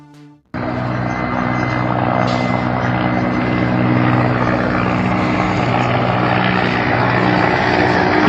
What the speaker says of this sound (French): Des hélicoptères de ces forces spéciales Delta des États-Unis que vous voyez en ce moment même survoler l'Irak